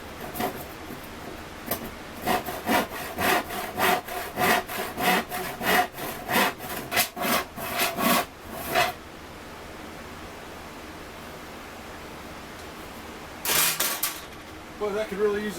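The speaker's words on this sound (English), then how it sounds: "I think I'm gonna at least make the first cut by it with a handsaw" A dull, flimsy no-name handsaw cuts wood for a raised panel in a run of about sixteen steady rhythmic back-and-forth strokes, then falls quiet, followed by a brief scrape near the end.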